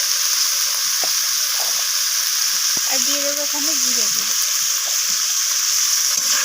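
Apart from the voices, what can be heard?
cauliflower frying and being stirred with spices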